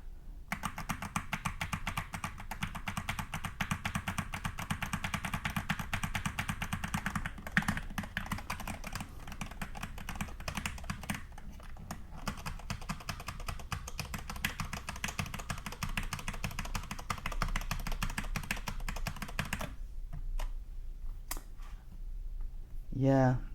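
Typing on a computer keyboard with added weight, a steady stream of close key clicks and taps over a long stretch, then a brief pause and a few final keystrokes, with speech heard at times.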